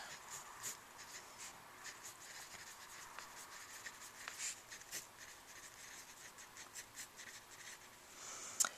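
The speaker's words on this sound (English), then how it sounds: "So let's write that on the top line." A pen writing on paper during an accounting lesson, with soft continuous scratching strokes close by and occasional faint taps, quiet throughout with no talking.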